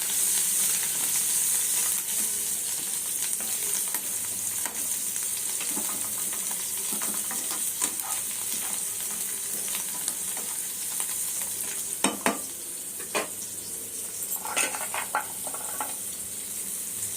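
Ingredients for green tamarind chutney fry in a pan with a steady bright sizzle throughout, broken by a few louder clicks and scrapes of stirring near the end; no one speaks.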